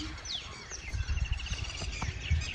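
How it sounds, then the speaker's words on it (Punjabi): Lapwings call near a village field being watered, faint chirps and sweeping whistled notes over a low background rumble, with soft thuds and handling noise close by. "ਇੱਕ ਤਾਂ ਟਟੀਰੀਆਂ ਜਿਹੀਆਂ ਆਵਾਜ਼ਾਂ ਕੱਢ ਰਹੀਆਂ ਰੰਗ ਬਿਰੰਗੀਆਂ ਤੁਸੀਂ ਵੀ ਸੁਣ ਸਕਦੇ ਹੋਵੋਗੇ"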